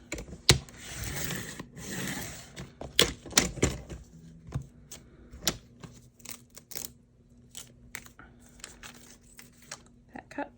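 Scissors trim a junk mail envelope for a junk journal, giving a series of sharp snipping and paper-crunching clicks in uneven bursts, fairly close, with quiet pauses between cuts.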